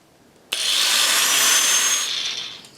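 A power tool cuts through an aluminum handbrake handle, a sudden loud, steady high-pitched grinding whine that starts abruptly, holds for about a second and a half, then tapers off.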